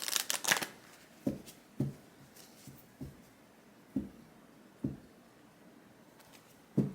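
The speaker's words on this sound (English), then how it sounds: "I just want to make sure we get a clean shuffle here" Tarot cards are shuffled by hand: a quick riffle at the start, then soft, irregular slaps and taps as the deck is cut, quiet and close.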